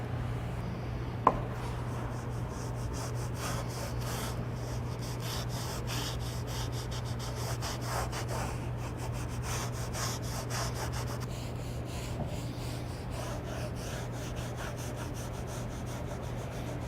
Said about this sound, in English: So we're going to sand this down to make it to where you're not going to get any slivers, to where it's very smooth